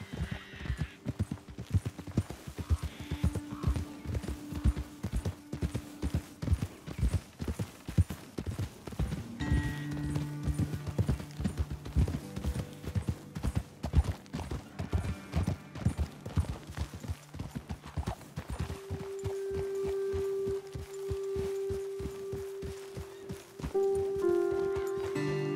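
Horses trotting in the video game Red Dead Redemption 2, a steady, close clip-clop of hooves with occasional whinnies and musical tones underneath, slowing toward the end.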